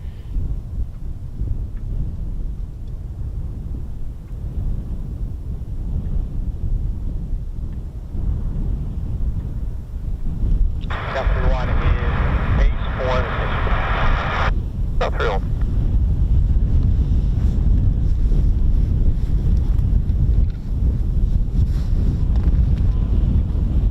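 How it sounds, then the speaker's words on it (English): Strong wind buffets the microphone at an outdoor RAF air weapons range, a loud continuous low roar with gusting surges, joined midway by a brief faint tonal whine. "It is very windy actually"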